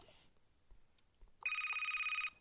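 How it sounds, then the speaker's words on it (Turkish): A mobile phone ringtone sounds nearby: a steady pulsing electronic ring lasting about a second, preceded by faint room noise. "Telefonum çalıyor."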